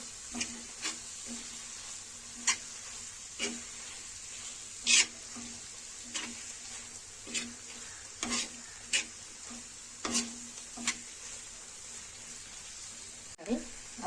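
Egg masala with coriander powder sizzles on a hot tawa while a utensil scrapes and stirs through it in a string of sharp, irregular strokes, close and fairly quiet.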